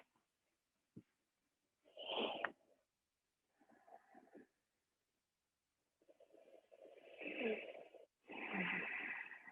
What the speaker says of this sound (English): Just do a few breaths through both nostrils.